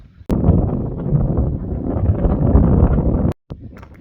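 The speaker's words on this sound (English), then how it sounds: "The wind's keeping me nice and cool." Strong wind buffeting the microphone on a coastal cliff path, a loud steady roar that cuts off abruptly near the end, followed by quieter gusts.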